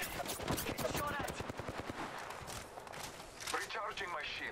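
Rapid automatic gunfire from an AR in Apex Legends, a steady fast rattle of shots that continues almost without break, with game voice lines over it.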